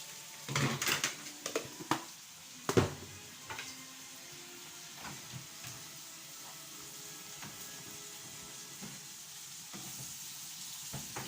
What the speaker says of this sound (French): Donc on va laisser mijoter notre crevette.